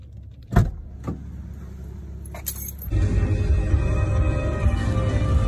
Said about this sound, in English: So we just got in the car.